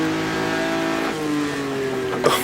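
A 1958 Formula One car in the Automobilista racing game accelerates hard, its engine note climbing, dropping at an upshift, then rising again, loud and close, with a brief crackle at the end.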